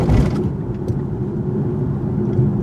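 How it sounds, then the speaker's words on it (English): A 2017 Infiniti Q50 or Lexus ES350 sedan rolls over a speed bump at 25 mph, a steady low road rumble with a brief tire thump near the start and no talking. "The tires were a bit noisy on the speed bumps"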